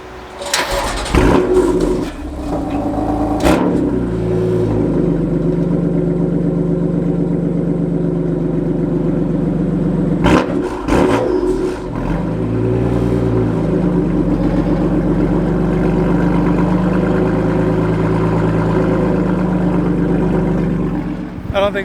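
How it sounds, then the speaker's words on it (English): A car engine cranks and catches, then settles into a loud, steady idle with a second brief cranking burst midway and some voices in the background. "Let's cold start."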